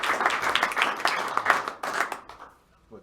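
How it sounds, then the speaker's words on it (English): An audience at a song swap claps for a performer, a dense burst of applause that holds for about two seconds and then fades quickly to near silence. "Let's have a big round of applause for him."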